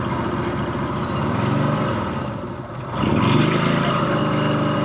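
A 1954 Harley-Davidson KH 750 motorcycle engine runs close by with a steady low, lumpy idle, then revs up and stays louder for the last couple of seconds.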